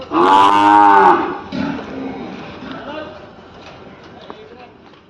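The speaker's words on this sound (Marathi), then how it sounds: "ही बघू शकता तुम्ही सहीवाल ह्या जातीची गाय आहे" A Sahiwal cow at a native-breed cow conservation and research centre in Pune gives one loud, drawn-out moo at the start, followed by quieter talk and farm background noise.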